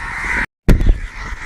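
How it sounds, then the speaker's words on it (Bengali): Crows caw harshly and loudly around a caught bird, a strong call breaking off abruptly before another rough burst of cawing resumes. "এই পাখিগুলোকে দেখতে পাচ্ছেন?"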